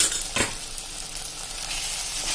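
Coriander-cumin powder and turmeric sauté with boiled spinach pulp and green chillies for palak paneer, a bright continuous sizzle with one brief clatter near the start.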